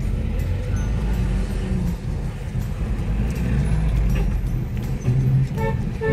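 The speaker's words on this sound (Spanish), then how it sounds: "toda esta cantidad de autos que ven queriendo acceder a la ciudad" Dense, congested car traffic on Ruta Militar in San Miguel, El Salvador: a continuous loud rumble of engines, trucks and buses idling and creeping, with air-brake hisses and short horn toots scattered through.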